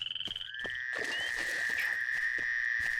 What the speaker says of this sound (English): I think I would just pick up these frogs to get them to shut the fuck up